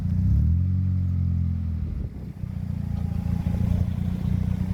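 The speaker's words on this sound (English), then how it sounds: "I want to hear how it sounds with the blow off valve now" A turbocharged car with an Apexi twin-chamber blow-off valve and doubled boost pressure rumbles close by with a deep, throaty drone that dips briefly and then returns as the car moves past.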